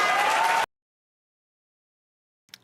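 A studio audience at a televised debate applauds and cheers in a loud, dense burst that cuts off abruptly, followed by near silence and a single faint clap-like tap.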